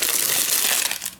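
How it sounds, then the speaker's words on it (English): A plastic bag is crinkled and crushed in the hands for a brief, dense burst of crackling that fades at the end, close and loud with no talk. "Let's just have a crinkle session here."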